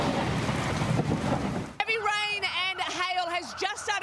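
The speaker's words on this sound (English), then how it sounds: "Heavy rain and hail has just started" Heavy rain and hail pour onto the M4 highway at Parramatta as a loud, dense hiss for almost two seconds, then cut to a person speaking.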